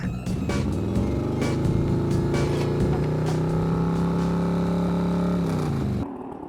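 Cartoon motorbike engine racing: a loud, steady revving roar that holds and climbs in pitch for several seconds, then cuts off abruptly near the end.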